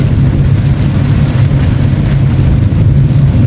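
Heavy rain from Typhoon Christine pours steadily around a Suzuki S-Presso AGS driving through floodwater, a loud continuous wash of rainfall and road noise with a low rumble underneath, with no letup throughout.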